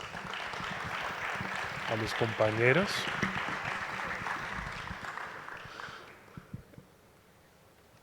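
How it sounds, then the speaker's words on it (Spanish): Audience applause at a concert of ancestral languages and cultures, a steady wash of clapping that swells and fades out, with a person speaking over the start. "démosle un fuerte aplauso entonces"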